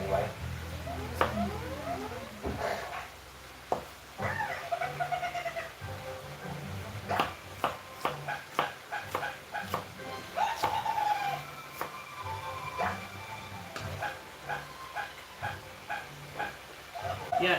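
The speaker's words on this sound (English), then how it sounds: "There is a puppy in an ad." A puppy whimpers in a television advertisement, its high, wavering cries repeating through a busy background of ad music and voices, moderately loud and mixed with other broadcast sound.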